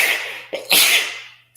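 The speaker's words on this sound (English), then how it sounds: "Excuse me, I got to sneeze" A single sharp human sneeze, a short intake burst followed by a loud, breathy explosive release that fades over about half a second, close and alone.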